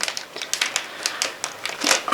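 Plastic packaging of a mint toothpick with a brush end crinkles and crackles in close, quick bursts as someone struggles to open it, with no speech.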